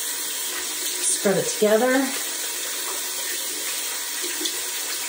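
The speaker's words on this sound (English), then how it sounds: "So you run it under the hot water" Hot tap water runs into a sink over a Norwex microfiber face cloth, a steady broadband rush with a brief burst of speech partway through.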